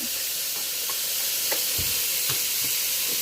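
Garlic hits a hot oiled pan, a steady close sizzle with a few soft scrapes and stirs breaking through.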